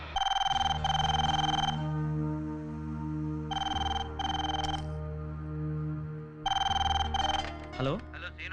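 A telephone bell rings in sharp repeated bursts over a sustained low musical background, three clusters of ringing separated by pauses, fairly loud and close, with a brief voice near the end.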